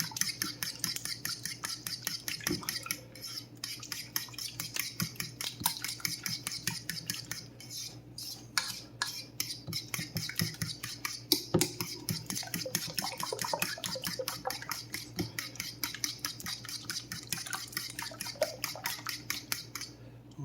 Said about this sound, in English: we'll put some heavy cream in there for a little bit of body. A little bit. All right, we'll mix this up.